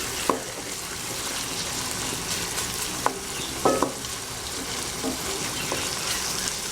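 Boneless chicken pieces sizzle steadily in a pan while a spoon stirs them, with several sharp clanks and scrapes against the metal at irregular moments. No one speaks.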